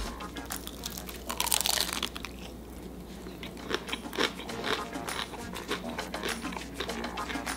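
Crunchy bites into a ramen noodle burger slider with fatty beef patty, loud close crackling crunches and chewing repeating throughout, no talking.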